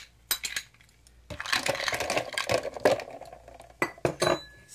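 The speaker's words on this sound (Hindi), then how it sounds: "अब इसके अंदर डालेंगे आइस" Ice cubes for a falooda milk drink clink and rattle sharply as they drop into a blender jar. The sound comes in a quick cluster of close, bright impacts, with no talking.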